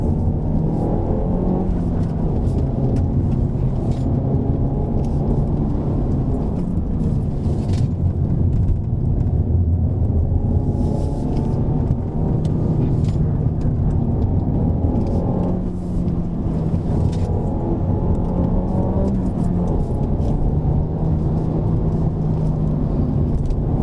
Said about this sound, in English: Coming to a left-hander, brake, shift down to second, and we have taken the left-hander.